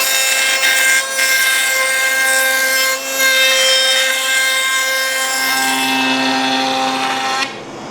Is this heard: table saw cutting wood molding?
yes